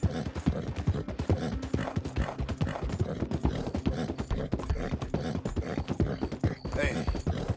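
A horse's hooves clip-clop steadily at a brisk walking pace in the Red Dead Redemption 2 game, close and rhythmic, with a voice speaking briefly over the hoofbeats.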